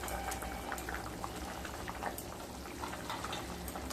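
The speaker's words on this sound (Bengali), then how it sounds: "ঝোলটা ফুটে এসছে।" Fish curry broth at a rolling boil, a dense continuous bubbling close by with no pauses.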